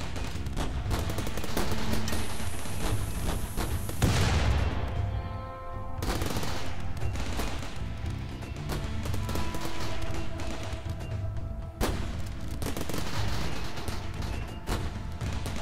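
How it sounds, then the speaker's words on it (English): Turret fire in RimWorld, a steady dense barrage of bullets hitting and pinging off sandbags, continuous and loud throughout with a few heavier thumps, no talking. "So luckily this turret here can shoot at all of them."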